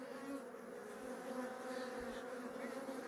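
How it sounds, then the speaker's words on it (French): Honeybees hum in an open hive during an inspection after a swarm split, a steady close buzzing drone with no talk over it. "Les abeilles sont calmes, elles attaquent pas."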